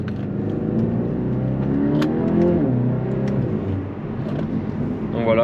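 Engine of a 300-horsepower Volkswagen T-Roc R with an Akrapovic titanium performance exhaust, running in comfort mode as a steady, loud drone with a gentle rise and fall in revs, a voice speaking faintly over it.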